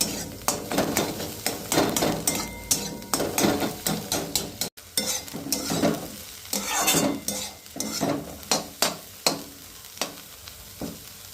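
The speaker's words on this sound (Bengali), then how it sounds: "এই দেখো একটু পেঁয়াজ ভেজে নিলাম লঙ্কা দিয়েছি শুকনো লঙ্কা" Onion and dried chillies fry in a pan, with a sizzle under frequent scraping strokes of a spatula that stir in an uneven rhythm, close and fairly loud, with no talk.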